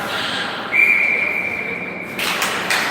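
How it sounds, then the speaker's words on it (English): A referee's whistle at an ice hockey game gives a long, piercing steady blast over loud arena crowd noise, followed by brief shorter chirps. "the ref decided to blow the whistle"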